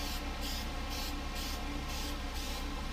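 Steady, continuous hiss of an airbrush spraying clear coat, close and even, pulsing slightly in strength as it sweeps, with no voices.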